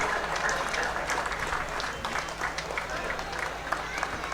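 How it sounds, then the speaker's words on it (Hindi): Audience applause at an official gathering in Dhanbad, heard as a steady wash of clapping from a crowd that holds for the full stretch, with faint chatter and shuffling mixed underneath. "जोरदार तालियों से आप इनका उत्साहवर्धन करें"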